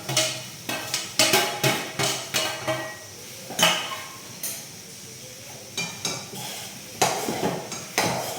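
A spoon stirs grated coconut into a pan of fried curry, scraping and clinking against the metal in quick repeated strokes, close and fairly loud, with no voices.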